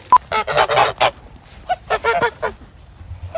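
Geese honk in quick bursts, several loud close calls in two clusters with short pauses between, no talking.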